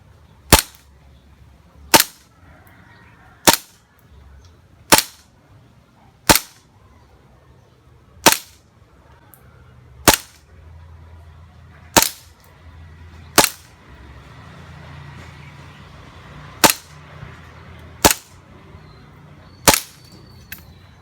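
A Hi Capa KJW airsoft pistol fires at a 10-meter target, twelve sharp, loud cracks spaced about every one and a half seconds, with faint outdoor background between shots.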